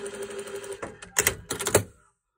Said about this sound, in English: Next you're going to sew them end to end.